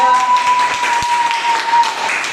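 Students in a classroom volleyball lesson clap together in a dense, continuous patter, fairly loud and close, with a steady tone and voices mingling underneath.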